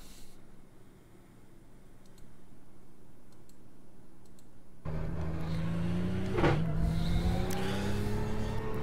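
A GT racing car lapping the Okayama circuit in Japan in a racing video game. Near silence gives way partway through to a loud, steady engine drone that climbs in pitch, dips briefly as if shifting gear, then keeps pulling.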